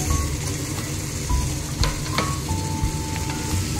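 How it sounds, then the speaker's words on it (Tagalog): Onion with garlic ginger paste frying in a pan for bukari, a dense steady sizzle with occasional scrapes of a stirring spoon, close and loud throughout. "pag okay na yung sibuyas, lagay na natin yung garlic ginger paste. Halu-haluin na natin hanggang sa maluto."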